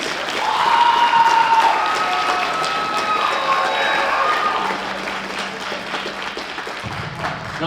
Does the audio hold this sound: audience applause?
yes